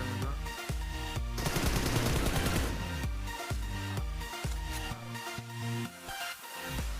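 Video game shootout gunfire cracks out in dense, loud bursts of rapid automatic shots, broken by short pauses and single heavy reports, with no talk over it.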